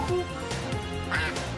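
A duck quacks in the EarthWorm Jim 2 video game. Short nasal honks come close together over a busy game soundtrack.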